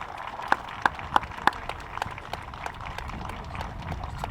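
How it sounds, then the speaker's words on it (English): A handful of sharp, close claps ring out at an outdoor Gaelic football junior championship final, followed by faint, scattered clapping from supporters further away at the grounds. "can I have a round of applause please to the Graham Walker Rugby Club and Football Club"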